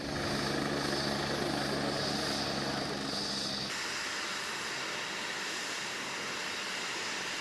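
A helicopter at its landing site gives a steady, loud, whirring rotor and engine roar that lasts throughout, with the tone shifting partway, and no voices are heard.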